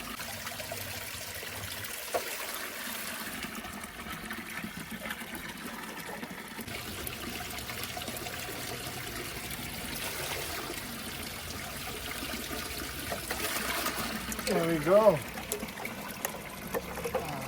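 Water from a spring fountain with an 1846-engraved wall runs steadily and fills a container outdoors, a constant close trickle and pour, with someone speaking briefly near the end.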